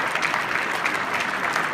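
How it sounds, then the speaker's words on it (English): Applause at a charity celebrity dinner for cystic fibrosis, a dense, steady wash of many hands clapping in a room, sustained and even throughout. "Keep the applause going."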